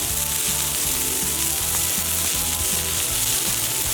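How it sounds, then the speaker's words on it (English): Steady, close sizzling of onions frying on a hot griddle, a continuous crackling hiss with no voices. "You can already smell the onion just sizzling away and sweetening this up."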